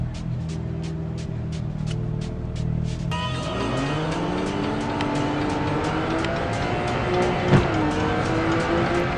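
Racing cars in the mobile game Real Racing 3 on a Teclast X98 Air III tablet: engine revving rises in pitch, then tires and passing cars blend into loud, continuous engine noise.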